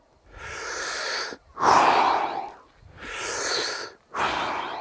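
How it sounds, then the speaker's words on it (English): A person breathes in and out through a tennis swing: four distinct, close breaths alternating inhale and exhale, each lasting about a second with brief pauses between, and no talking. "Once I reach the power position and start the swing towards that ball, I start my exhale."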